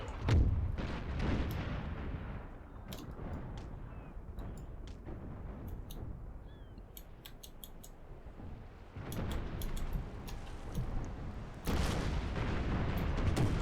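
Musket and cannon fire from Empire: Total War, a naval battle against Spain, with heavy booms and scattered crackling shots in bursts, loudest at the start and again near the end.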